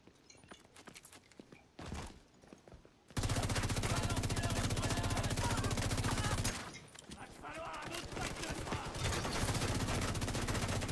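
Gunfire in the video game The Division 2, with a short burst, then a long loud sustained stretch of rapid automatic fire, a brief dip, and more continuous shooting resuming near the end.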